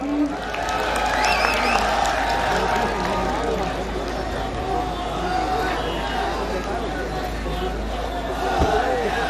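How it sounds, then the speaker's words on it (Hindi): An audience at a 2017 engineering college function in Sikar claps together before a Ganesh Vandana performance, a dense, steady applause with crowd chatter and a voice speaking over it. "गणेश वंदना के लिए मैं आप सभी की तालियों का साथ चाहूंगा"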